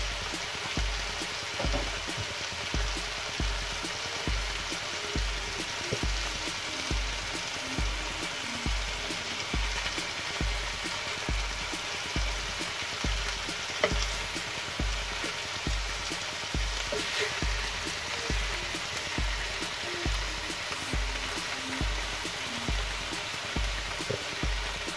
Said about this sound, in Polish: Ja to obsmażę tylko z dwóch stron i później przypiekę w piekarniku